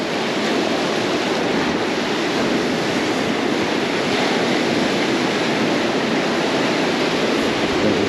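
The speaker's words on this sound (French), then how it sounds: "Et le vent, il est de face." Strong headwind roars steadily across the microphone beside a fishing pond, a dense, unbroken rushing noise at constant loudness with no voices.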